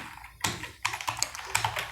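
Typing on a computer keyboard, close and clear, a handful of sharp key taps in an irregular rhythm, with no talking.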